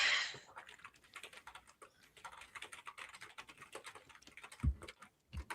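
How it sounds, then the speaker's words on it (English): Rapid, uneven keystrokes on a computer keyboard clatter close by for several seconds, with a few louder thumps near the end and no voices. "By the way, while you're typing"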